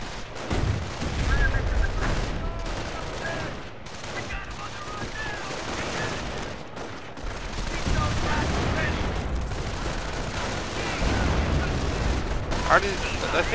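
Battle gunfire from the Company of Heroes video game, a dense rumbling fusillade of shots and low booms running continuously throughout, with a voice talking over parts of it.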